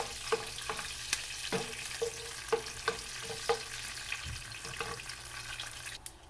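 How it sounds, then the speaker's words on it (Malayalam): Curry leaves being stirred in a pan over a low flame, with a soft sizzle under a rhythmic series of spoon taps and scrapes, fairly quiet and close. "കുറച്ച് കറിവേപ്പില ഇപ്പം ഇളക്കി കൊടുക്കാം."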